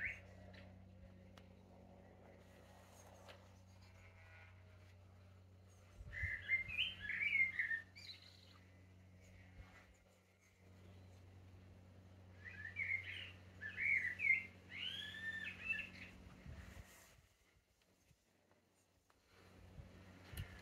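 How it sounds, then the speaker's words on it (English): A blackbird sings in two clear bursts of fluting, warbling phrases, fairly faint and distant over a quiet indoor hum, with no talking. "You can hear that blackbird singing away."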